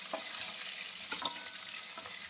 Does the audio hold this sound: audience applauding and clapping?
no